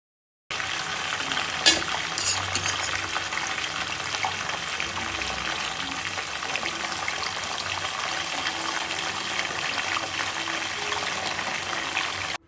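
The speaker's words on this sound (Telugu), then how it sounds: "నూనె బాగా వేడైన తరువాత మనం చికెన్ వేసుకుని ఫ్రై చేసుకుంటాము" Pieces of chicken frying in hot oil for a homemade chicken pickle, a steady dense crackling sizzle close up, continuous and fairly loud throughout with no talking.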